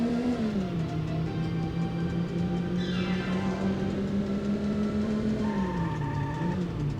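Racing car engine in the PS1 game C1 Circuit, a steady droning whine that rises and falls with revs throughout, loud and continuous with no voices.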